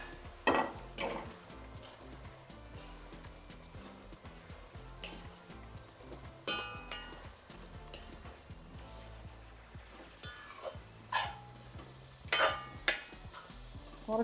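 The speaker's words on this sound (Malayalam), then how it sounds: "മഞ്ഞൾപ്പൊടിയും നാരങ്ങയും, ഉപ്പും കൂടെ ചേർത്ത് ആ ചിക്കൻ ഇതിനകത്തിട്ട് കൊടുക്കേ" Chicken goes into a pan with tomato, turmeric powder, lemon and salt for a Kerala-style dish, bringing scattered clinks, scrapes and stirring with a low sizzle, close and fairly quiet, with no talking.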